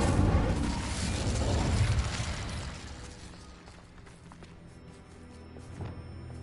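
A fire spell cast in a Harry Potter video game: a loud whooshing burst of flame at the start that gradually fades into a crackling, lower tail, with a small flare near the end.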